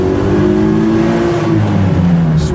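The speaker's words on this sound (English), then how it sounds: "do a little acceleration run here" A Honda N600 car accelerates hard, its small engine note climbing steadily in pitch as it revs. The sound is loud and close, as if from inside the car, with road noise underneath.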